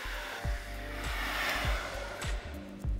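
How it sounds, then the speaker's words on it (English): A hair dryer blows steadily while front hair is blow-dried with a medium boar bristle brush, a continuous airy whoosh broken by repeated low thumps and brief surges as the brush works through. "we're gonna actually blow dry it with a Ibiza medium sized boar bristle brush"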